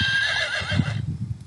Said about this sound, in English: That is the sound a horse makes.